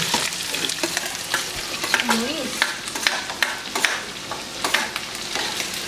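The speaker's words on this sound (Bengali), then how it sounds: "রসুন বাটা আর আদা বাটা দিয়ে মশলা সব মিশে" Garlic and ginger paste with spices being stirred and fried in a pan, a steady close sizzle broken by repeated scraping strokes of the spoon throughout.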